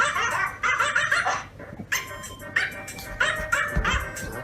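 A dog barks, yips and whimpers excitedly in a string of repeated bursts, fairly close and loud, with occasional background voices.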